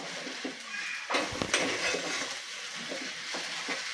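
Grated sweet potato being stirred together with crushed roasted peanuts in a pan, giving soft scraping and light sizzling with a few sharper spatula knocks.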